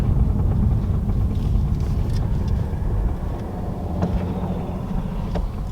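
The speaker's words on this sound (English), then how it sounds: "Right now, as you can hear, it's just the electric motors going." A 2019 Acura NSX supercar driving on its electric motors alone, a quiet, steady low rumble of road and tire noise without engine roar, continuous and even throughout.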